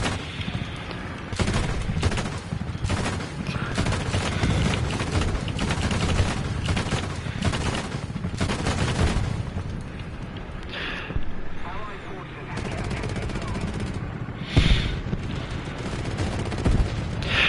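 A vehicle-mounted gun in War Thunder fires in rapid bursts and single shots amid a noisy battle rumble, with engine and wind noise underneath and a voice talking over parts of it.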